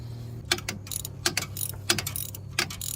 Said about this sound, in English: you can always add another small extension to your ratchet